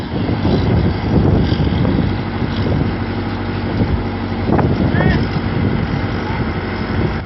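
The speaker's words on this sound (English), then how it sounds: "The 60-ton log splitter, a colossal machine delivering crushing force far beyond typical equipment." A 60-ton log splitter runs with a loud, steady engine drone and rumble close by, with occasional knocks over the constant noise.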